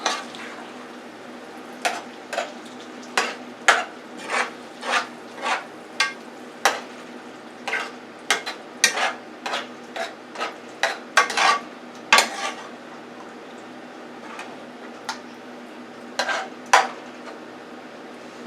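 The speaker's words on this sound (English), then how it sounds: "So I'm mixing the sauce in with the hamburger this time." A spoon scrapes and clacks steadily as tomato sauce is stirred into browned ground beef for spaghetti in a pan, crisp repeated knocks over a soft sizzle, close and with no talk.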